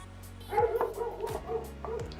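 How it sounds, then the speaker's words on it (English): Several dogs bark in short bursts at a garage sale, a sharp volley followed by a few more yips and barks at moderate distance, with no talk over them. "And there goes the dogs again."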